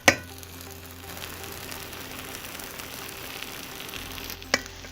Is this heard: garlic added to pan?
yes